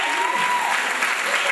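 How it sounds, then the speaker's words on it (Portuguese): Brief, dense applause from a youth prayer group audience fills a church hall, a burst of many hands clapping at once with a faint whistle-like tone and murmuring voices mixed in. "Salva de palmas"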